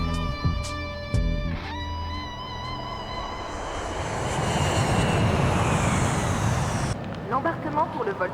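A Mirage jet fighter taking off for a test flight builds from a rising whine into a loud, broad engine roar that swells, then drops off sharply. Talk and other noises are heard at the start and end.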